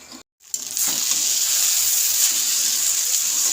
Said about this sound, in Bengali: কড়াই আমার তেল দিয়ে দিই কড়াইটা গরম হয়ে গেছে